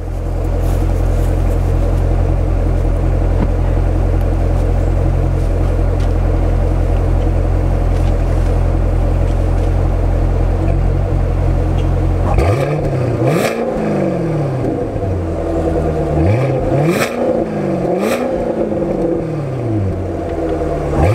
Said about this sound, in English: not a whole lot of exhaust sound like you would think